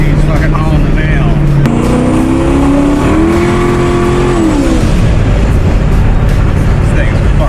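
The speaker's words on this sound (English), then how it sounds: "Nothing screams I'm a douchebag more than fixing your car up to make more noise than it's supposed to." A tuned turbocharged Lincoln Town Car engine revs loudly up close, its pitch rising and holding before dropping off, with a steady low drone and road noise around it.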